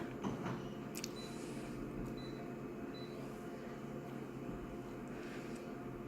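A vacuum cleaner runs on the floor upstairs, heard from below as a steady, muffled low rumble and hum carried through the ceiling, continuous and fairly quiet with no talking.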